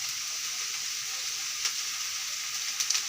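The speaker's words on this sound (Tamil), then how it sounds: "பூண்டு, காலிஃப்ளவர் வதக்குறாங்க." Garlic and cauliflower sautéing in a pan make a continuous soft hiss, with a few brief scrapes and clicks toward the end and no voices.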